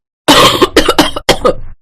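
A woman gives a burst of loud, close coughs: a long harsh cough followed by several quick rasping ones and a final hacking fit, with nothing else audible.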